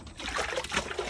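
Soft paper pulp tipped into a tub of water for hand papermaking gives a brief, gentle trickling and sloshing pour, close and fairly quiet, with no voices.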